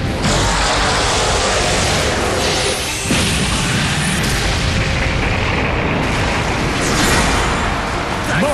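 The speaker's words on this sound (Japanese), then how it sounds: "さあ、爆発だ。" A loud, roaring explosion fills the scene in the fighting game Granblue Fantasy Versus, with sustained crashing rumble and brief bursts layered throughout.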